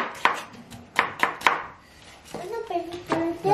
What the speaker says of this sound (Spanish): Vamos a picar 2 cebollas para un lado, para una taza, un recipiente.